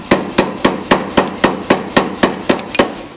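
Blacksmith's power hammer forging a bar for an ax: twelve loud, evenly spaced metallic blows, each ringing briefly, steady rhythm close by with no voices.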